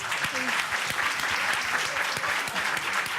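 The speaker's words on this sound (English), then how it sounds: "One more round of applause for our guests." An audience applauds its guests after a community conversation event, dense, steady clapping from a sizable crowd filling the whole stretch, with faint voices murmuring underneath.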